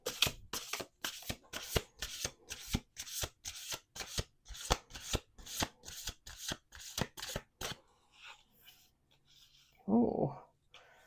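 Oracle cards are shuffled in a rapid run of crisp, papery riffling bursts close to the microphone, followed by quieter handling and a brief soft thump.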